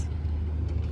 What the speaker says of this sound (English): You could hear cars on the highway, you know, big trucks particularly.